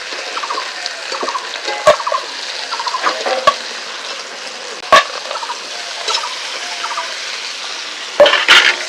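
Sundarbans crabs frying in a pan while being turned over, a steady sizzle broken by sharp clacks of a spatula and a louder scraping burst near the end.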